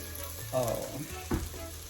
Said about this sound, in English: So we're gonna brown the garlic